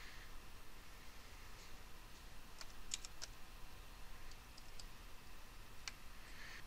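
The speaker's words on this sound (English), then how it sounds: "you can start typing in the information for" Scattered light keystrokes on a computer keyboard while entering customer details into business software, a few isolated clicks and a brief flurry amid steady faint background hiss.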